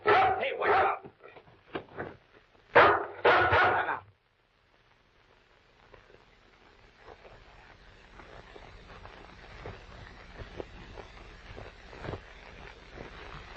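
A dog barks in a quick burst of several loud, close yaps and woofs, then falls silent, leaving faint room noise with scattered soft sounds.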